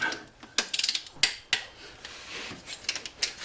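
Ratcheting clicks from a torque wrench tightening head bolts on a 1997 Ford Escort engine, short bursts of metallic clicks and knocks spaced irregularly, close and fairly quiet, with no talk.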